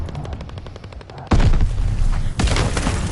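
Gunfire and explosions in an online shooter match: rapid repeated shots at first, then loud close heavy blasts with a second burst near the end, no voices.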